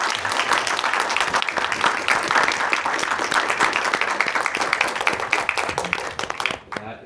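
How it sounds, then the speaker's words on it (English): An audience at a film festival panel breaks into steady applause, dense clapping from many hands that carries on for several seconds before quickly tapering off at the end. "Everyone, please, a round of applause."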